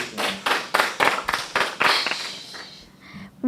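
A small group of people at a novice public forum debate camp claps in a quick, steady rhythm for about two seconds, then the clapping thins out and stops.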